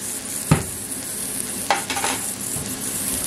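Leek frying in a pan for a pumpkin soup, a constant close sizzle with a few clinks and scrapes of a spoon stirring, loud and steady with no talking.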